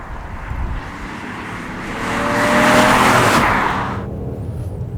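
A 2003 Toyota Crown Athlete V estate with its 1JZ straight-six is driven hard on a back road, the engine note and road roar swelling loud for a couple of seconds before easing off, with no talk.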